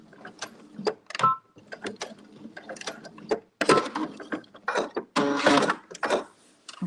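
A sewing machine free-motion quilts a small flower in white thread, its needle clattering in uneven mechanical bursts that speed up and pause, close and fairly loud.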